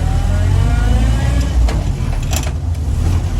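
A Land Rover engine revs and labours while gears crash on an old vehicle in rural Germany, a close, rough mid-pitched drone with brief clunks.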